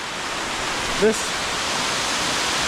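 A waterfall in Santa Ana, El Salvador pours with a steady, even rushing roar of water that fills the whole clip, with one brief faint vocal sound near the middle.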